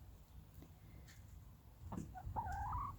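White leghorn chickens in a coop give faint clucks and a short rising call against quiet background noise.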